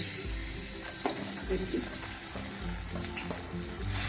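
Chopped ginger sizzles in two spoonfuls of hot oil in a pan while making mini samosas, a steady close frying hiss with small crackles throughout.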